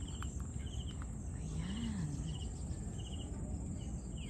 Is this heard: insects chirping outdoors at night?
yes